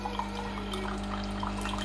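A Bosch Tassimo coffee machine pours coffee in a faint, steady trickle with soft drips over a low continuous pump hum.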